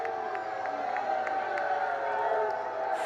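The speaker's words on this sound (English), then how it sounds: "as the crowd boos the timeout" A baseball playoff crowd boos a timeout with a broad, sustained roar of voices, steady and fairly loud throughout, with a few louder shouts toward the end.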